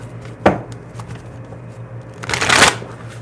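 Tarot deck shuffled up close: a single crisp card snap, a quiet pause, then a loud, dense burst of riffling cards near the end.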